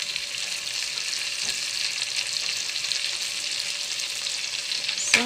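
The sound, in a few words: sautéing tomatoes and ingredients for sinigang in pan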